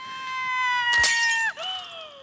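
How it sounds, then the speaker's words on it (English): A woman sings a sustained, piercing high operatic note, and a glass shatters with a sharp, bright burst about a second in, after which her voice dips and slides on. "How she's trying to break the glass and just shatters it on the corner."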